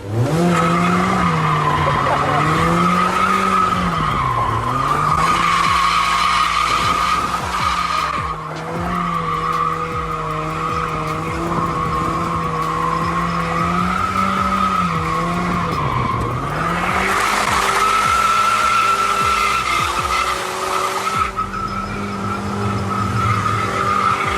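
An adult-sized street-legal go-kart with a shark body rips around, its engine droning and revving while the tires squeal and skid repeatedly, close and loud.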